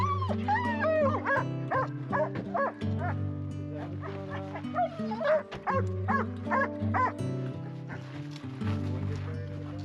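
A dog barks loudly and close by, with yips mixed between whiny, high whimpers. The barks come in irregular bursts over roughly ten seconds, with short pauses between them.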